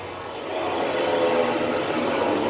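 MotoGP motorcycles at Sepang circuit, heard from trackside, a loud engine roar that swells quickly and holds as a bike passes along the straight.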